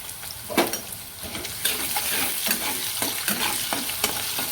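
Onion and curry leaves frying in hot oil on low heat with salt added, a steady close sizzle broken by repeated stirring scrapes and clacks of a spoon in the pan.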